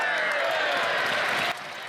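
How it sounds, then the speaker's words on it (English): Conservative members applauding in parliament, a dense steady wash of clapping from a large group that drops off sharply near the end. "I think it's important to show how long this applause by the Conservatives goes on for the Ukraine."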